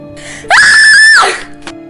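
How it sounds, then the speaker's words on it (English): A woman lets out one loud, sustained scream of fright as a dramatic story sound effect, lasting under a second and ending abruptly, heard alone. "I screamed and woke up half the dorm."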